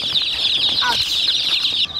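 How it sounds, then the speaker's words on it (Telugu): Dozens of chicks on a farm cheep continuously in a high, shrill chorus, close and loud, with a brief flutter or rustle partway through. "ఇక్కడ 60 కోడి పిల్లలు వచ్చాయి మనకి"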